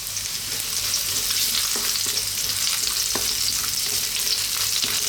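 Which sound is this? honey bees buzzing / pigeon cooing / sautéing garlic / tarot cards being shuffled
sautéing garlic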